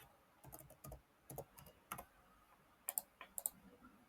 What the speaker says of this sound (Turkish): göstergelere tıkladım